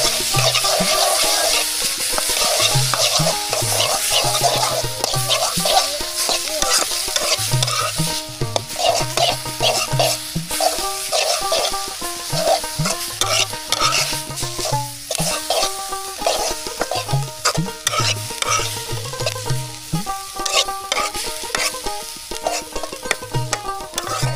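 Dheki shak fern greens are stirred in a cooking pan over steady frying sizzle, with repeated scraping strokes and a continuous busy texture, loud and close throughout, no voices.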